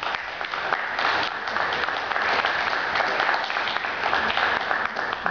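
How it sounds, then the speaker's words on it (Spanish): Sustained audience applause at a young poets' event fills the whole stretch, a steady dense clatter of many hands clapping at even loudness with no voice on top. "Bien, maestro, fuerte palmas."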